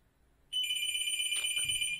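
A telephone rings once, a steady electronic trill that starts abruptly and holds loud and close for about a second and a half, with no one speaking.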